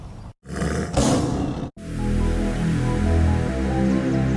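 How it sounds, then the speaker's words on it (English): A big cat roar used as an animal sound effect in K-pop production: two throaty, growling roar bursts separated by brief gaps, followed by a loud sustained low rumble with tonal layers, no talk. "Well, animal sounds are a pretty straightforward choice here."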